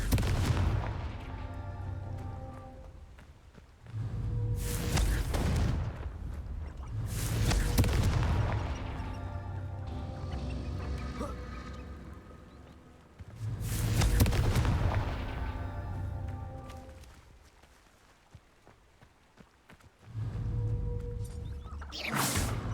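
Confringo blasting curse explosions in the video game Hogwarts Legacy: three separate booming blasts, each followed by a rumbling tail, alternating with quieter gaps filled by faint ambient clatter.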